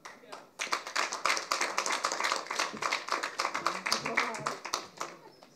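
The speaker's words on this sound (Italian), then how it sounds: "menzione e applauso da parte della Commissione" Members of a university graduation commission applaud a graduate, brisk close hand clapping in an irregular rhythm, with voices talking over it.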